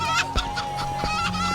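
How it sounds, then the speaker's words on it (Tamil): Country chickens in a basket give a few short clucks and squawks close by, over a steady low background hum. "பின்னாடி என்னது கூடையில? நாட்டுக்கோழினே."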